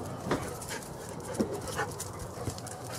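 Excited dogs whimpering and panting close by, short breathy pants and soft whines in a steady rhythm, with no talk.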